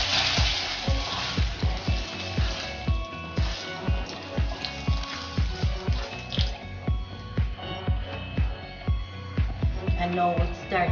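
Sugar browns and sizzles in a pot as the base for Jamaican stewed chicken, a steady loud frying hiss broken by rapid crackling pops throughout.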